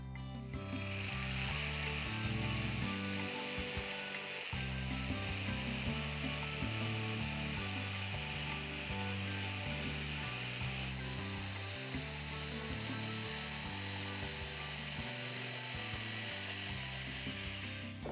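A saw cutting along a marked line on a wooden headboard piece, continuous rhythmic rasping strokes with a ratcheting grind, close and steady throughout with no talking.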